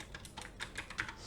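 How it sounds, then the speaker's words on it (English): Quiet, steady keystrokes on a computer keyboard, about a dozen soft clicks in an uneven rhythm, close and alone with no voices. "I'm going to press tab, and I'm going to type out AI"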